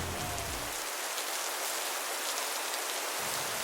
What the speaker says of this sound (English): Soon it started to rain again